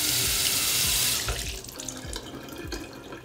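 Tap water rushes loudly over a hookah smokebox being rinsed. The strong spray lasts about a second, then gives way to softer splashing and dripping as the flow is moved around.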